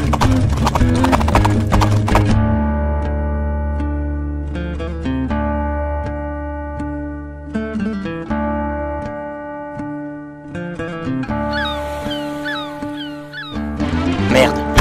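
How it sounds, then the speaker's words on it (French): Horses clip-clop in a steady rhythm beneath loud orchestral music. "Ces chevaux font l'affaire."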